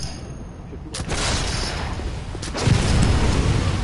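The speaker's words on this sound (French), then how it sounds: "Il y a un gars, il me tire dessus." Enemy gunfire in the Bloodborne video game, a few muffled shots and booms over a dense, noisy game soundscape, with talk mixed in.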